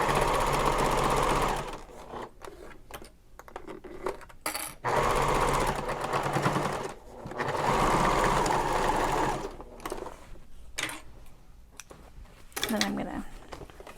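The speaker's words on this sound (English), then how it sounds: "I'm going to sew right back along this seam" A sewing machine stitches along the seam of a messenger bag in loud, fast mechanical bursts that stop and start, with quieter handling noises in the pauses.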